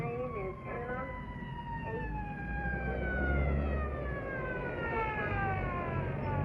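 A Norfolk police motorcycle siren wails with rising and falling sweeps as it chases a speeder, mixed with traffic noise and someone talking underneath.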